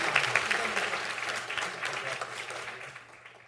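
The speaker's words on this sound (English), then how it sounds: "Let's give them a round of applause again." The audience at a school board meeting applauds for students, loud at first and then slowly fading over a few seconds, with faint talk underneath.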